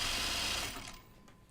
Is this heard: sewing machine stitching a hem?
yes